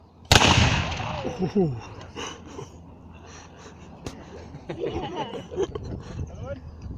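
Historical reenactors at Tretower Court and Castle fire a musket volley: one sudden, loud, sharp blast close by, followed by a rolling echo that fades into crowd murmur and outdoor noise.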